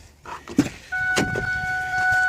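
A 2005 Ford F350 diesel farm truck starts after a few clicks and thumps, settling into a steady idle hum with a sustained chime tone over it. No one speaks.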